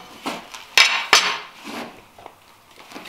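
A metal speed square is flipped over on a timber-frame brace, giving two sharp, ringing metallic clacks in quick succession among lighter taps and scrapes, close and without speech.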